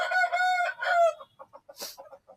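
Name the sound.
fighting roosters crowing on a chicken farm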